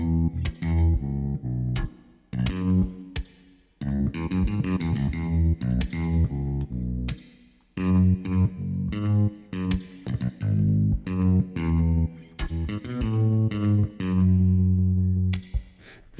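Electric guitar drenched in a wide Synchron Stage reverb wash, played as sustained chords and phrases with short gaps, loud and continuous with long ringing tails and no voices.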